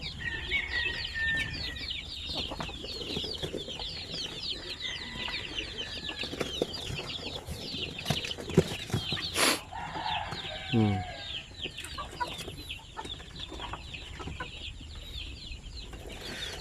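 Chicks kept under a 100-watt bulb in an incubator cheep and peep continuously in a busy chorus, with clucking fowl nearby and a voice talking briefly in the background.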